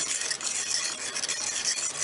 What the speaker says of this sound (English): I could have used my whisk, but you can use this fork